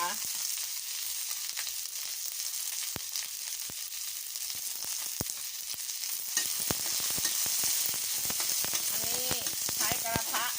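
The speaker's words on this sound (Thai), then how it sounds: "อันนี้เราก็รอผัด ให้ผักสุกนิดนึงนะคะ" Kohlrabi is stir-fried in a pan over a wood-fired stove, a continuous bright sizzle punctuated by sharp spatula clacks and scrapes, growing busier toward the end, with a brief voice near the close.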